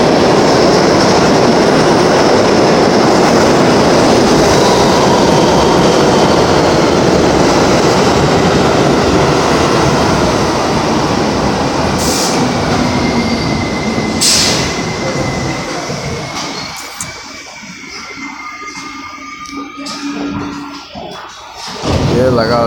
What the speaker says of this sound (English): I'm gonna let this train pass.